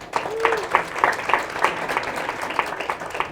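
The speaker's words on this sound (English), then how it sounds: "So please give them another round of applause." An audience at a community talk gives a round of applause: clapping in quick, regular pulses from a modest crowd, moderately loud and steady throughout, with no one speaking over it.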